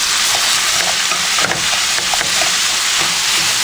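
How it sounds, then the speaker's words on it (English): Peppers and onions sautéing in a hot pan, a loud continuous sizzle broken by the scrape and clatter of stirring, close and alone without talk. "And you're going to saute this until everything is just a sauce."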